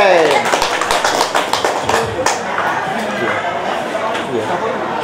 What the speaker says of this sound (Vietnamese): vỗ tay công nhận dâu đi